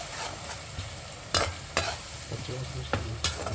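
Green chillies are stirred and fried in oil for a bachelor-style uggani, making a constant soft sizzle with a few sharp scrapes and knocks from the spoon against the pan.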